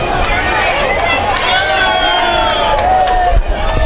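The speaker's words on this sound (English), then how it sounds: "now you can hear the crowd starting to get into it a bit" A baseball crowd at a college game swells in noise, a broad roar of cheering and chatter with whistles and shouts, heard loud and close throughout with voices mixed in.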